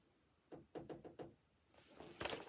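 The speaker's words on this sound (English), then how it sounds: "Sounds like somebody's knocking at my door." Knocking at a home door, a series of about five quick muffled knocks at moderate distance, followed by a brief louder rustle or bump, fairly faint overall.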